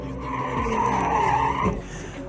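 Car tires squeal in a sustained skid as the rear end slides around, loud and continuous with engine drone underneath, fading out at the end.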